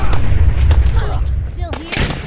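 Gunfire in Fallout 4, loud close shots and booming impacts that overlap with a voice calling out, and a brief whistling sweep heard midway through.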